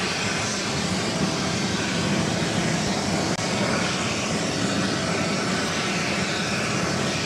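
Airbus A330-300 arriving at New York JFK from Dublin, a steady loud wash of engine roar throughout with no voices.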